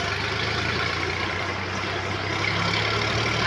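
A Sonalika tractor engine runs steadily on the road with a continuous low, heavy drone and rumble, close and loud for the full length, with no voices.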